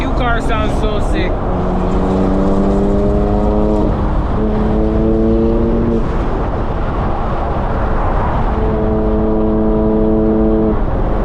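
A BMW M5 engine roars loudly and revs up in repeated rising pulls while racing on a highway, droning steadily under constant road and wind noise.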